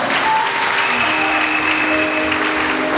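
Dense, steady applause fills a large crowd at Intare Arena in Kigali, loud and continuous for the whole stretch with little else audible.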